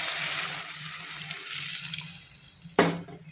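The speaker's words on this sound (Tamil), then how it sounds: "இப்போ நம்ம அதுக்கு தேவையானது தண்ணி ஊற்றிக்கலாம்." Water poured into a cooking pan of fried onions while making vada curry, a steady rushing hiss with a sharp splash and sizzle near the end, heard alone.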